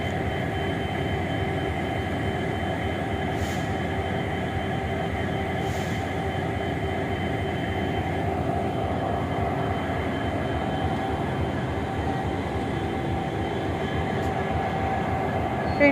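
A train idles at New Jalpaiguri railway station in West Bengal, its old engine giving a steady, loud, continuous drone and rumble with a faint higher whine, unbroken for the whole stretch and with no voices.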